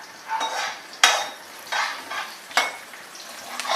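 Maggi noodles with onions fry over a gas flame while a spatula stirs the pan, sharp scraping strokes recurring every second or so over a steady close sizzle.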